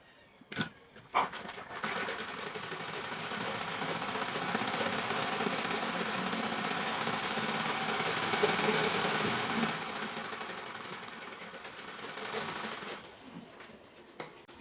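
A domestic sewing machine with a thread-breaking problem runs steadily for about twelve seconds, its dense mechanical whir and rapid stitching clatter close and loud, preceded by a few sharp clicks at the start and stopping near the end.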